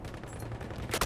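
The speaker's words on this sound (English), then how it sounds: "Who's shooting me?" Gunfire in a first-person shooter game, a dense burst of rapid shots under a low hum, ending in a couple of sharper cracks near the end.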